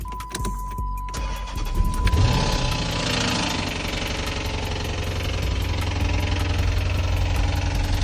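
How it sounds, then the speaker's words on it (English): A 6.1 Hemi V8 in a Chrysler 300 SRT8 cold-starts with a sharp cranking catch, then settles into a loud, steady, rumbling high idle up close. "Nice little cold start for this bad baby"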